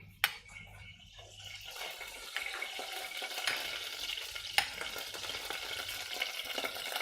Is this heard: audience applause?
no